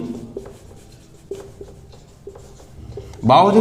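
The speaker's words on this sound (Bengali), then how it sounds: "এই বামাবোধনী পত্রিকা লিখছি" Pen or chalk scratches out handwriting in short, rhythmic strokes, close and soft, before a voice abruptly starts talking at the end.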